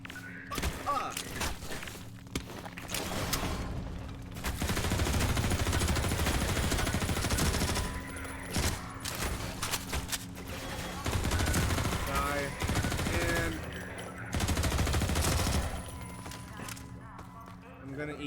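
Enemy gunfire in Half-Life 2 comes in bursts of automatic fire and thuds, fairly close and dense, with someone talking and exclaiming over parts of it.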